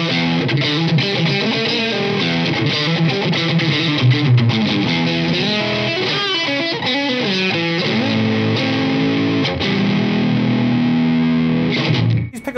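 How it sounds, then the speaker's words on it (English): Ibanez JEM Jr electric guitar on its middle single-coil pickup, with added hum, played through a high-gain Blackstar HG Stage 100 watt amp: a steady loud stream of distorted riffs and held chords with no voices. "In the middle, you get that single coil with the added hum of a single coil."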